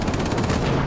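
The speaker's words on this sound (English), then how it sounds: "Now that my rear gunner's firing," Rapid, dense machine-gun fire from a heavy fighter's rear gunner in the World of Warplanes game, with fast rattling bursts that are loud and continuous.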